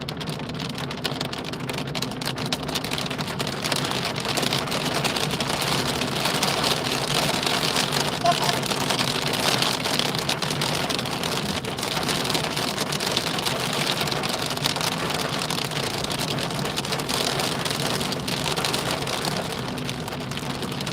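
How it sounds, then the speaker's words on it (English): Steady patter of hail and rain drumming on a car windscreen while driving near Wigan, UK, continuous and close, with a faint hum of the vehicle underneath. "There's bits of hail now on the windscreen."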